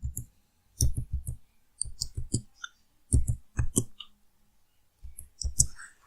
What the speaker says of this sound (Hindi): अपना इकामा नंबर टाइप करें